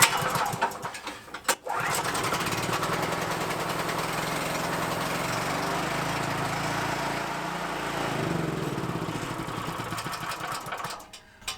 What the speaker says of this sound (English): All right, generator's running okay.